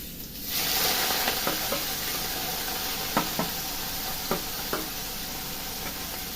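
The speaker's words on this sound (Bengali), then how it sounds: "যত মশলা আছে বলুন একসাথে দিয়ে দেবো, পেঁয়াজ, কাঁচা লঙ্কা, আলু, রসুন" Onion, green chilli, potato and garlic sizzle in a hot pan, a steady broadband frying hiss starting after a brief quiet moment, punctuated by several sharp knocks of a spoon or spatula stirring against the pan, with no talking.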